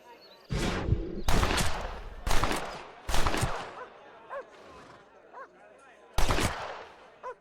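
Loud repeated gunshots in Red Dead Redemption, a burst of several sharp blasts then a lone later shot, with speech in between.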